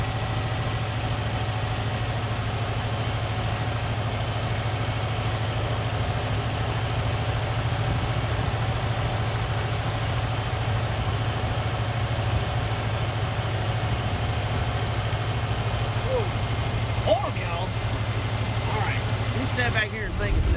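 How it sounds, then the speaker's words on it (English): Chevy square body truck with a single-barrel carburetor idling high, a steady low engine hum running continuously at close range, with faint metallic handling noises toward the end. "I think she's still idled up kind of high"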